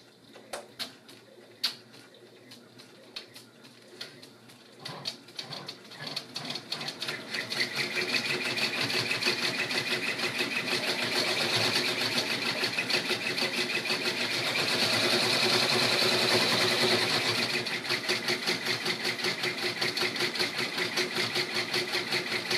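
An embroidery machine stitches a 3D troll girl peeker appliqué, sewing satin stitch in a fast, steady, close mechanical whir that starts with sparse ticks and then runs continuously and loud.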